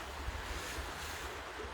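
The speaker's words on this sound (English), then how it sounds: "sound of the river just calms the mind" A river flows in a steady, even rush of water close by, alone and without talk for a brief moment.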